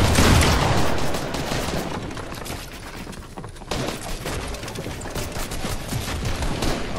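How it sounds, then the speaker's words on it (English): Rapid SMG bursts crackle in a shooter game, dense and loud at the start, easing briefly mid-clip, then resuming in sustained clattering volleys. "He's using his SMG"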